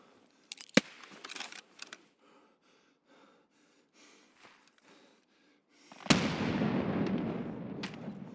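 A grenade goes off in the shooter game Escape from Tarkov, a sudden heavy boom with a long rumbling tail, preceded by faint shuffling and clicks.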